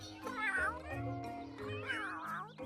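Cats in The Sims 3 video game meowing in long drawn-out wavering calls, two distinct yowls rising and falling over a low steady game music hum, close and fairly loud.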